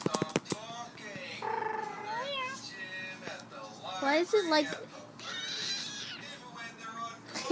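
A pet cat facing its reflection in a large mirror lets out several drawn-out, rising meows at close range, with people talking and laughing around and over it.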